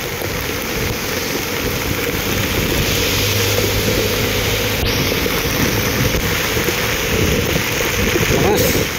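Strong typhoon wind roars with heavy rain in a constant loud wash, and a voice speaks faintly beneath the storm.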